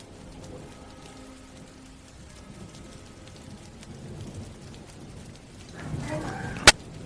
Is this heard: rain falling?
yes